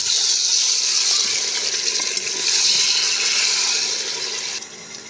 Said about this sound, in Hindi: अब हम कलेजी को इसमें डाल देंगे। इसे अच्छी तरह से भुनाई कर लेंगे